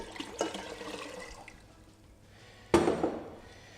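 Tap water in a kitchen pours into a container while salt brine is prepared for curing pork loin, with a soft running-water wash that fades and then resumes with a sudden louder close gush.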